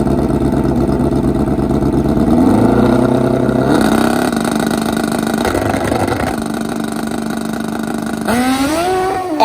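Drag racing motorcycles, including a nitro Harley and a turbo Hayabusa, roar through a final round. The engines sound loud and continuous, with rising revving pitch and a sharp climbing whine toward the end, and no talking.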